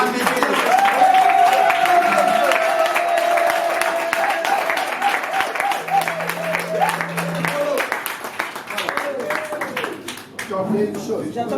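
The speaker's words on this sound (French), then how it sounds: "je donne encore vraiment d'applaudissements au promoteur" Applause from an audience at a company presentation, clapping that rises and falls under a voice talking over it, with a sustained tone running through the first half.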